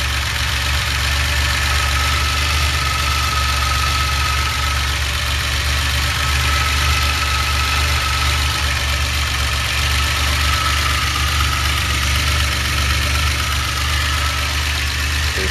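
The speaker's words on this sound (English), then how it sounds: "as the choke warms up, it'll put it in the normal idle" DeLorean engine with a carburetor conversion and Peugeot manifold idling while the choke warms up, a loud, close, unbroken idle with a steady low throb and no voices.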